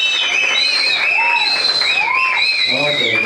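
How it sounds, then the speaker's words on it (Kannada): Audience applause and cheering at a Kannada film press meet, steady clapping mixed with shouts and whistle-like calls, loud and close throughout. "ನಮಗೂ ಚಪ್ಪಾಳೆ ಹೊಡಿರಪ್ಪ"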